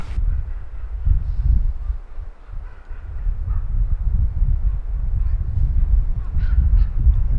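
Ravens calling outdoors on an October autumn hike in Värmland, Sweden, a few harsh caws standing out over steady low wind rumble, at moderate distance.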